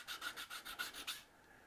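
A demolded resin egg is sanded by hand with a sanding block and 120-grit Abralon, giving about seven quick, even rasping strokes close up, with no talk, before it stops.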